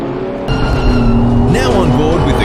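BMW M2 CS race car on track in the M2 CS Racing Cup, its engine droning steadily from on board with rising and falling harmonic pitch as it accelerates, loud and continuous under a commentator's voice.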